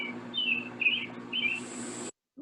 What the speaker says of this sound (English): That's a pretty bird.